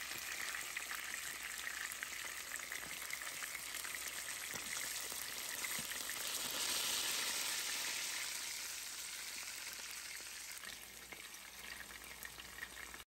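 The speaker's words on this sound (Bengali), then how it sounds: "এই তো মাছ ভাজা করছি" Fish fries in a pan with a dense, steady sizzling hiss that swells slightly midway and holds for over ten seconds, close by and fairly even, with no talking.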